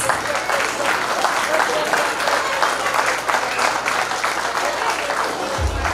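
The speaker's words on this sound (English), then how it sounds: "A huge round of applause, all my dear parents, for this little kiddies." Steady, loud applause from a crowd of parents at a toddlers' school annual day, continuous clapping filling the whole stretch without a break.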